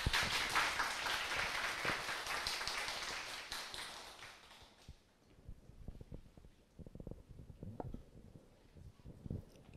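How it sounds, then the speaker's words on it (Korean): Audience applause welcoming a lead data scientist onto the stage at a tech conference talk, dense and steady for about five seconds before thinning into scattered faint claps and rustling. "큰 박수로 맞이해 주세요."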